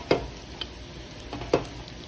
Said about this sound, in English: Make sure not to burn, because the breadcrumbs do fry pretty quickly.